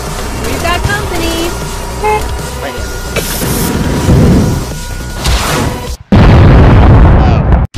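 A rocket explodes in the Henry Stickmin game, with loud bursts and a heavy boom among game sound effects and horn-like toots, ending in a sustained roar.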